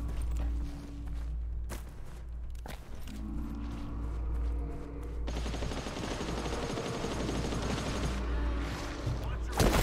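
Rapid automatic gunfire from the GTFO video game in a fogged level, sustained bursts under footsteps and occasional talk, loud and close.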